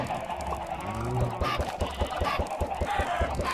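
Chickens in the block-building game Minecraft cluck in a quick run of short, repeated clucks, fairly close and clear, with no talking over them.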